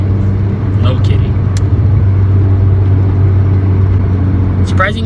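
A turbocharged 1.8T VW MK4 Jetta engine drones loudly and steadily, a dense low rumble heard from close by, as though from inside the car under hard acceleration.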